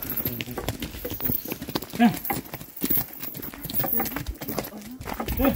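A donkey carrying a rider walks up behind on a darkening rural trail, its hooves clip-clopping in a steady rhythm under frequent nearby talk.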